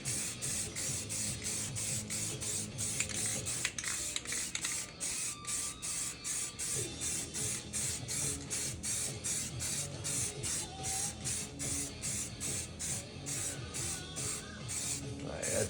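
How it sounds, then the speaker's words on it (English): Spray paint can hissing in steady repeated bursts while coating the oil pan of a Jeep Wrangler during restoration, a near, rhythmic pulsing spray with short gaps between passes, no talk. "I gotta get the ball in there to keep shaking up the paint"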